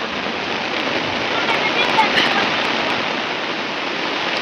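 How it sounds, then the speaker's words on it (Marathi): Heavy monsoon rain pouring down steadily, a dense, loud, unbroken hiss that stays even throughout, with no one talking over it. "माझा आज हा पाऊस ह्यो मुंबईकडून आला आहे"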